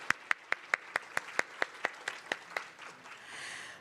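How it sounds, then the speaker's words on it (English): An audience claps at the opening ceremony of the 4th Hong Kong International Innovation and Technology Expo: about a dozen sharp, evenly spaced claps in a quick steady rhythm, then fading into a soft crowd murmur. "Let's give them a big round of applause again."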